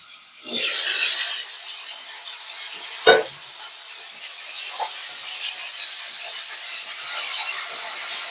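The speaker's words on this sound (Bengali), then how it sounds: "ফিশটা আমার ভাজা হতে থাকুক" Fish sizzling in a hot pan for a home-cooked fish curry: a steady hiss of frying that holds through the whole stretch, with a sharp scrape or clatter partway through.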